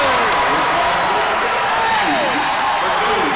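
Loud, steady roar of a basketball crowd cheering in Panther Stadium during a varsity boys game against Conway, with squeaking sneakers and a commentator's voice running over the noise throughout.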